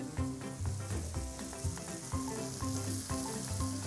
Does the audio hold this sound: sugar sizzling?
yes